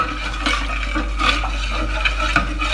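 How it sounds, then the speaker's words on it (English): Agave syrup stirred into homemade soy milk, a spoon scraping and clinking against the container in light repeated strokes, close and fairly soft, with no talking. "and stir it"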